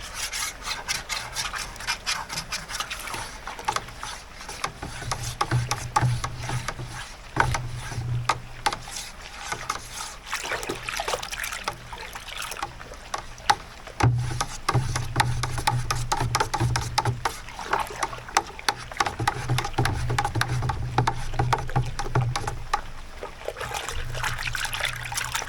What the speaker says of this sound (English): Just go ahead and give it a good stir for a couple minutes. Make sure we're getting it good and aerated.